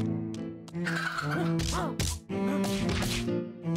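A chicken dies in the metroidvania game Curse of the Sea Rats with a burst of loud, squawking clucks and gobbling cries, punctuated by a sharp hit or two.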